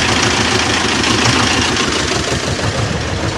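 A T-25 tractor engine runs steadily close by with its hydraulic lift raising, giving a loud, even, rough idle with a low vibrating rumble throughout.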